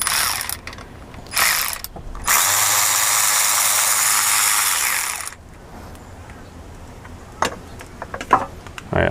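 A power tool spins out bolts on a 2011 Seadoo RXT supercharger, with a few short ratcheting bursts, then one sustained loud whir of about three seconds, followed by scattered clicks and clanks of parts close by.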